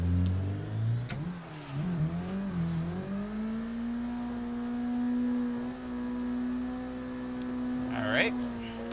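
A car engine in the Assetto Corsa racing game, held in second gear at the Emerald Coast Dragway, buzzing steadily at high revs against the rev limiter, loud and sustained with slight pitch wobbles and a brief flutter near the end.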